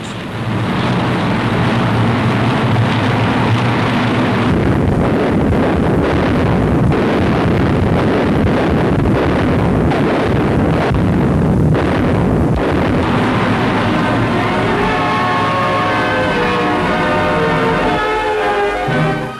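Loud, continuous rumbling blasts from a B-26 bomber attack on a Japanese base at Sidor, New Guinea, in the tropics, carrying on for the whole stretch with dense low roar and bursts of broadband noise.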